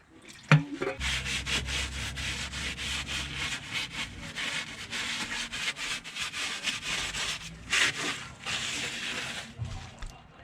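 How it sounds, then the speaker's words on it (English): Cloth wiping dirt and leftover residue off the underbody of a VL Commodore during an LS1 build, a steady rubbing scrub that runs close and continuous for about ten seconds with brief pauses. "I'm giving that a bit of a wipe, still dirt's come off"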